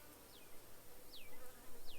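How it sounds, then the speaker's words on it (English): Honey bees buzz around a double deep brood box hive, a continuous droning hum close by, swelling and fading as individual insects pass near, with several whining fly-bys sweeping down in pitch. "Bees in the bottom."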